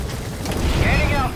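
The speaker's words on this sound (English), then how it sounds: "Let's go ahead and get on the chopper and leave the mission area." Helicopter in the video game Metal Gear Solid V: The Phantom Pain, a steady, loud, whooshing rotor roar with a low rumble and faint whining tones throughout.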